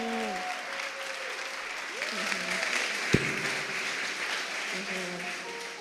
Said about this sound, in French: Est-ce qu'on peut applaudir le maître Damas,